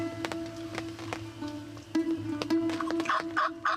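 Wild turkeys gobble near their roost in an outdoor hunting setting. Several bursts come from moderately distant birds over a low steady background, growing more frequent toward the end, with no talk.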